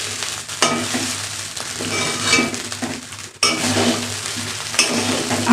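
Rice and lentils for khichuri fry and sizzle in a pan, stirred with a utensil that scrapes and clinks against the metal in irregular strokes, close and clear with no talk.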